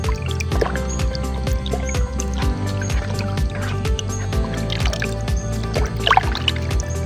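Liquid fertilizer for chili plants being stirred and poured, giving a steady close stream of dripping, trickling and sloshing water with small squishy splashes throughout.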